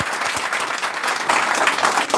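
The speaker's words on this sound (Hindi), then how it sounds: "मैडम एक बार जोरदार तालियां" Audience applause at a talk for Jharkhand police sub-inspector aspirants, a steady dense clapping that fills the short stretch at even loudness, with no voices over it.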